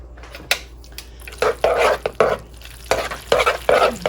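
Boxed macaroni and cheese is stirred in a pot: a handful of close, bursty scraping and squelching strokes with brief pauses between them, with no talking.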